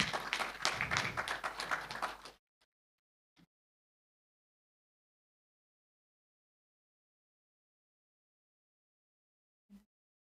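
Audience applause at a justice forum, a brief burst of many hands clapping for about two seconds that cuts off abruptly, followed by near silence with a couple of faint taps.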